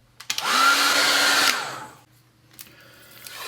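A hair dryer roars up to full blow over a wet watercolour painting, holds steady for about a second, then winds down, and a softer second burst of airflow follows near the end.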